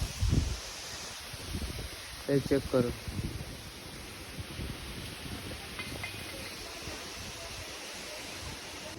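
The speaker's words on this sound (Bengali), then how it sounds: "আজকে সকাল সকাল এত হাওয়া দিচ্ছে" Strong wind blows on a rainy morning after a heavy storm, a continuous rushing roar buffeting the microphone, with a few short words from a person over it.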